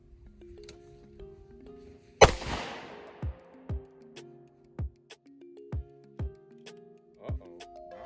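A Ruger 57 pistol fires at steel targets on a gun range, one loud close shot followed by a string of lighter, ringing metallic hits and pops spaced about half a second apart.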